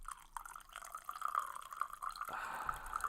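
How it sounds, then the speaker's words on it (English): Coffee trickles from a French press into a cup, a faint, uneven pouring stream that shifts to a steadier, fuller flow toward the end. "I got a French press right next to me. And I'm going to definitely pour my first cup."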